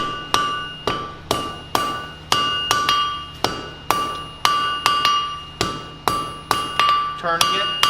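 A hammer strikes hot steel on an anvil to forge a blunt taper in a blacksmithing class, about a dozen sharp ringing blows in a steady rhythm, each with a bright metallic ring that fades before the next, close and loud.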